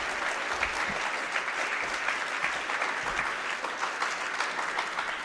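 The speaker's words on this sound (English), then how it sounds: "Ladies and gentlemen, please join in a round of applause for our senior wrestlers" A crowd in a school gym at a high school wrestling meet against Portsmouth applauds the senior wrestlers, their parents and coaches, giving a steady, moderately distant wash of clapping that holds even across the whole stretch.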